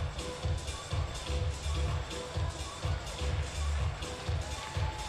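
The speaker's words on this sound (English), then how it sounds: "Crowd not going anywhere here in Munich. It's still absolutely packed" Large packed crowd at the IFSC bouldering World Cup final in Munich, a steady murmur with rhythmic low thumps like clapping or stamping running throughout, moderately distant under the general hall noise.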